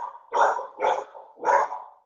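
Dogs barking during a remote city council meeting, three close, loud barks in quick succession with short gaps between them.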